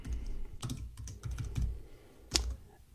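Quiet, steady typing on a computer keyboard, soft key clicks in an uneven rhythm with one sharper keystroke near the end, heard alone without talk.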